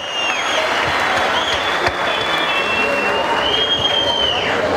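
A large crowd applauds football players at a club squad presentation in a stadium, making a dense, steady roar of clapping with whistles and cheers rising above it.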